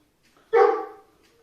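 A single sharp dog bark rings out close by, one short loud yelp that trails off quickly in otherwise quiet surroundings.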